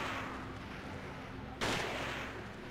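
An enemy gunshot in a PS2 game lands as one abrupt, fairly loud blast with a short decay over a low, continuous droning background; no one speaks.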